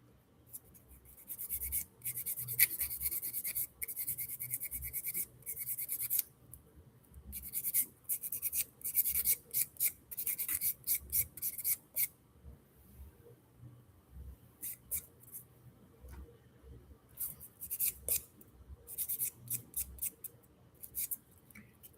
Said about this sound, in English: I'm going to go in again with my buffer, and you want to use the rougher side of the buffer